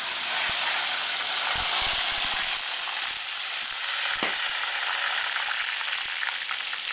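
Food frying in hot oil in a rustic country kitchen gives a steady loud sizzle and hiss throughout, with occasional pops and clinks of stirring.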